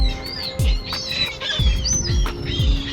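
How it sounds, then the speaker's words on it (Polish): Several birds chirp and squawk close by in a loose, repeated pattern of sharp calls over a steady low background rumble, with no voices. "co jest z tymi ptakami?"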